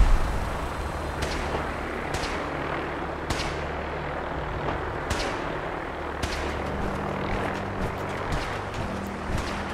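Gunfire in Fallout 4, a string of sharp, separate shots cracking every second or so over a steady low rumble, with no talking.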